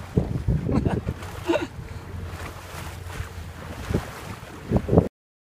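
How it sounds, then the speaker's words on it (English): An Island Packet L24e electric boat cruises across choppy Tampa Bay, with steady wind buffeting and water slapping against the hull, and short bursts of louder splashing throughout. "I'm cruising at 55 amps and it's smooth sailing. It's a bit choppy out here, but not a problem for the L24e."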